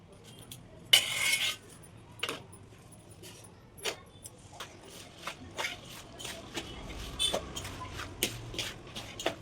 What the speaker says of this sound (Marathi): गॅस पूर्ण मिक्स करून घ्यायचे.